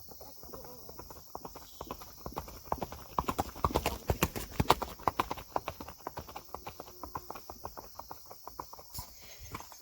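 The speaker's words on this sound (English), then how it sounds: "Here we're going for a canter." Rapid rhythmic hoofbeats of a ridden horse cantering without a bridle, steady three-beat clopping that grows louder in the middle, close by, with no voices.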